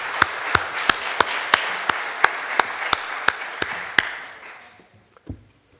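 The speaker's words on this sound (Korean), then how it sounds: "우리 성가대 격려의 박수로 다시 한번 하면 좋겠습니다" A church congregation at a Sunday worship service claps for the choir in a steady, evenly spaced rhythm of about a dozen sharp beats, then the clapping stops and the room falls nearly quiet.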